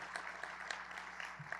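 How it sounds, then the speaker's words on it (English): Applause from an audience at a transportation briefing, a faint, scattered patter of clapping hands that continues evenly through a short stretch at a distance. "y'all please join me in giving them a hand applause too"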